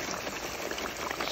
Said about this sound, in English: Watch it hit the grease.